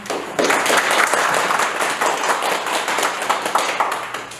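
An audience applauds steadily for several seconds, many hands clapping in a dense, sustained wash that fades slightly toward the end.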